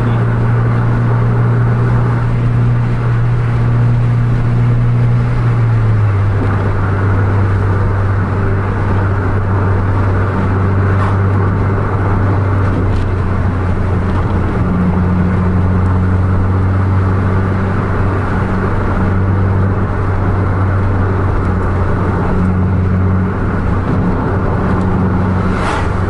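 Scania buses race on a road at around 100 km/h, with a loud, steady engine drone and whir heard close from on board, and the pitch steps down once early on, with no talking.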